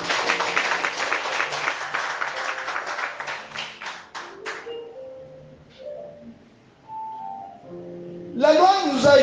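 A church congregation applauds, a dense patter of clapping that thins out after a few seconds, followed by quieter tones and then a burst of voices at the end.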